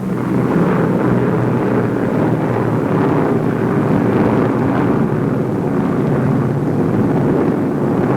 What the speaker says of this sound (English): Bombers and fighters pounding and strafing the Axis columns